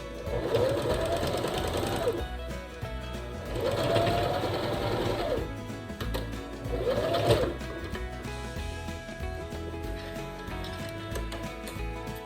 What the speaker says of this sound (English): We're going to sew along this edge right here